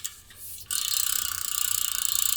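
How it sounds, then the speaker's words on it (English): Rapid, steady ratcheting clicks from a Shimano C46 carbon wheel's freehub, close and crisp, starting after a brief quieter rustle and then running evenly to the end. "this is what I think a free hub should sound like"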